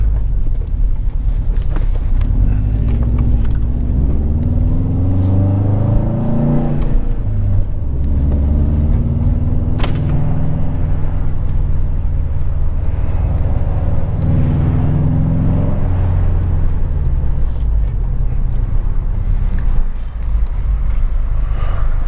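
Subaru STI fitted with a Tomei exhaust heard from inside while driving, a loud, steady low engine and exhaust drone with rising and falling rev sweeps, buffeted by wind noise throughout, no talking.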